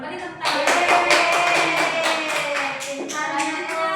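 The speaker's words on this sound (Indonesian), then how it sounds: "Beri tepuk tangan." A classroom of students claps together in a rhythmic pattern of quick bursts, fairly loud and close, while a voice sounds over it.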